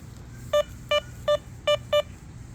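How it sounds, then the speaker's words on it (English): A Dr. Otek MT-XE metal detector beeping over buried metal, five short, evenly spaced electronic tones at the same pitch, fairly close and clear, with faint background noise between them. "Let's take our metal detector and test it out with something that is buried."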